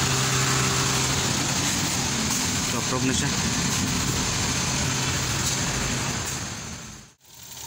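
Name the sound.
Suzuki K6A engine running after camshaft replacement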